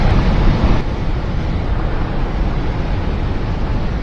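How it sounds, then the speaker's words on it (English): Moving water of the Gila River near Coolidge Dam in Arizona, heard as a steady broad rushing wash with some wind buffeting on the microphone, continuous and fairly loud with no talking. "There's nice moving water over there."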